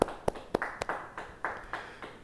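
Church congregation at a Bible study clapping hands in a loose, uneven rhythm, roughly eight or nine sharp claps over a couple of seconds, fairly faint and set back in a reverberant room.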